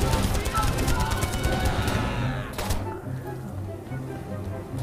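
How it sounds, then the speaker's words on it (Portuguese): Gunfire in the Brothers in Arms video game: a dense burst of rapid rattling shots runs for a couple of seconds, then drops to sparse, quieter rumble while a player talks over it. "Tá começando aqui o tiroteio."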